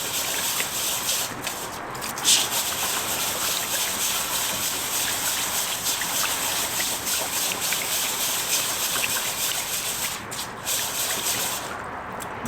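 Sushi rice for a California roll is swirled by hand in a bowl of water, giving continuous soft sloshing and trickling with occasional splashes at moderate volume.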